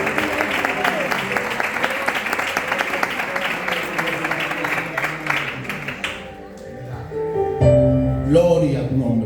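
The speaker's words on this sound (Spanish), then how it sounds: "Damos un fuerte aplauso para nuestro Señor Jesús." Church congregation applauding at a worship service, a dense wash of clapping that fills the first six seconds, then fades as music and voices take over.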